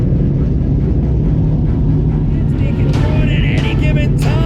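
Pro 2 off-road racing trucks roar around a dirt track at the Crandon Brush Run, a loud, continuous engine rumble with passing revs building near the end.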